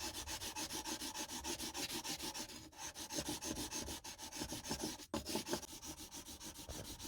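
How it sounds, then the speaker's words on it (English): A plane blade is sharpened in a honing guide, giving rhythmic back-and-forth rasping strokes of steel on a stone. The steady scraping repeats evenly at close range, with no talking. "I need to sharpen this blade."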